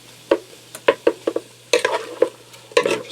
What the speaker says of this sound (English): I just want to stir this around until it starts to pink up for a few minutes.